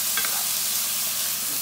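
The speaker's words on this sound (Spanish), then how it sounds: "Y ahora vamos a batir o a menear" Chinese-style rice with vegetables fries in a pan while being stirred, a loud, constant sizzling hiss with brief scraping strokes near the start, close up and with no talk.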